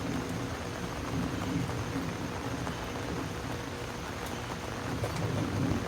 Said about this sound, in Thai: ฝนตกจ้ะ